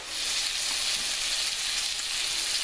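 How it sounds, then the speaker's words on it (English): Steady, close sizzling of chicken frying in hot olive oil, a continuous crackling hiss with no talking. "You want it sizzling."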